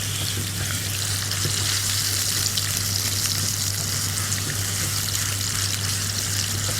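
Chicken keema being mixed with oil and frying in a pan, a loud continuous sizzle with wet stirring and bubbling throughout, over a low steady hum, with no talking.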